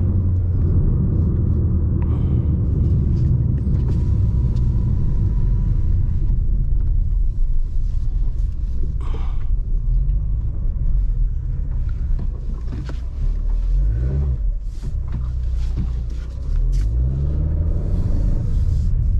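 A Fiat Toro 1.8 pickup accelerates hard in sport mode with traction control off, a steady loud low engine rumble heard from inside the cabin for the whole stretch, mixed with some road and wind noise and no talking.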